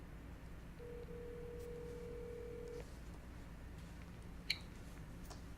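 A telephone call goes out: a steady dial or ring tone holds for about two seconds, followed by quiet line hiss and a couple of faint clicks, with no talking.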